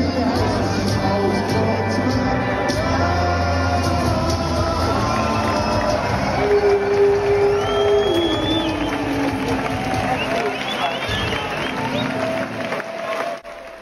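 A crowd applauds and cheers at a street renaming party in Berlin, with dense, sustained clapping and scattered whoops that ride over tonal background sounds, then fade at the end.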